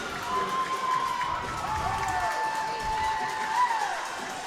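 Crowd at an ice hockey game cheering after a goal, a steady roar of voices with whistles and whoops throughout, under an announcer talking.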